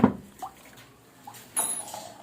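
Water splashes and pours in short bursts, a loud splash at the start and another stream near the end, with quiet gaps between.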